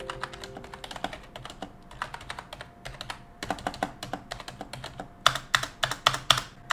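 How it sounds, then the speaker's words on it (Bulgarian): Rapid typing on a Logitech G213 Prodigy membrane gaming keyboard, close and continuous, with keys clacking in irregular bursts and a few louder strikes near the end. "ще ви пусне един саунд тест, за да чуете как се чува тази клавиатура"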